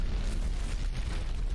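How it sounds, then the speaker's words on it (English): A rocket engine igniting in the video game Call of Duty: Advanced Warfare, a dense rumbling roar with heavy low-end blasting and crackle, loud and continuous for a brief burst, with no talking. "You do not want to be this close to a rocket engine igniting."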